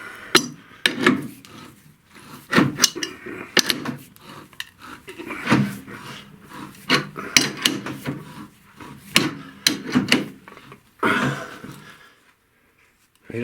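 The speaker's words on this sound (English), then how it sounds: "Well, it certainly appears to be cutting a nice thread." A threading die cuts a thread on a steam fitting pipe in a workshop, giving a series of irregular scraping and grinding strokes with short pauses between them, close and fairly loud, with no talking.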